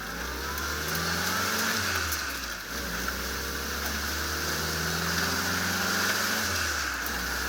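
A WW2 Willys jeep, engine not yet fully warmed up, drives off with a steady low engine drone and rising revs, loud and close, with road and wind noise throughout and no talk.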